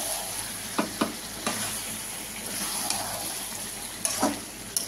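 Spice masala with chicken, potato and papaya sautéing in a pan, with a steady close sizzle and frying hiss and a few sharp scrapes of a spatula against the metal, no talking.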